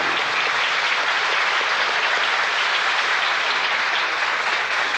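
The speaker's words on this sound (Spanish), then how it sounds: "Un aplauso para el artista." An audience applauds for an artist at a spiritual talk in Guadalajara, a dense, loud, continuous roar of clapping from many hands with no pauses.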